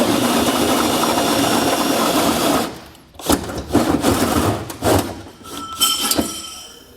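A drill bores through an aluminum truck bed on a 2022 Ford F-350 Super Duty during a fifth wheel underbed kit install, with a steady close whir for three seconds, then uneven bursts and clinks.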